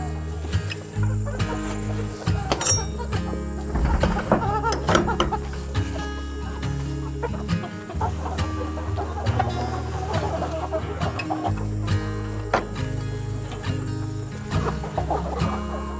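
Broiler chickens cluck and chatter continuously as they are fed in a backyard garden setting, a busy, close flock sound with overlapping calls.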